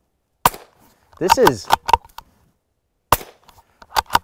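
Suppressed gunshots from a small backyard silencer, a few sharp cracking reports spaced over several seconds, close and loud, with brief talk between shots.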